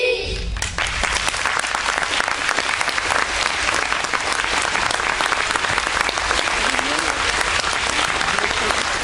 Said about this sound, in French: C'est pas tous les jours qu'on est applaudis.